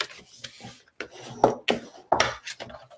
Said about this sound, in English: And burnishing just really gives it those nice, crisp, clean edges.